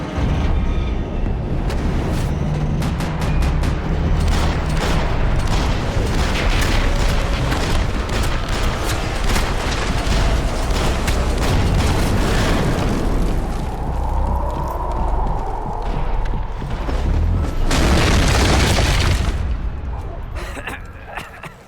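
Gunfire and explosions in the action video game Max Payne 3: dense bursts of shots and booms fill the scene, ending with a loud blast, while characters shout and talk over the fighting.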